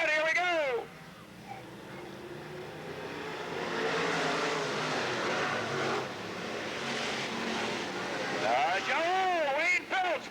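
Race cars roar around the Riverside Speedway oval in 1993 after the green flag, a dense sustained engine drone swelling and fading across the pack, with a voice speaking near the start and end.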